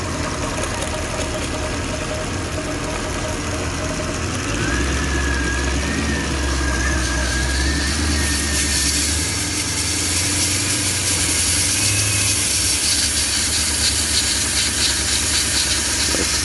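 A Porsche engine with a faulty high-pressure fuel pump idles unevenly, a continuous low rumble under a steady hiss, close and fairly loud, with no voices.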